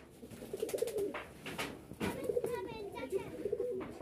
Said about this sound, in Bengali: এখানে আরও এক জোড়া কবুতর, এটারও বাচ্চা আছে